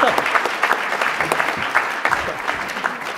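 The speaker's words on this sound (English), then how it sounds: "Come on, let's clap our hands." Audience applause after a conference panel session, brisk, steady clapping from a modest crowd throughout, close and fairly loud with faint voices underneath.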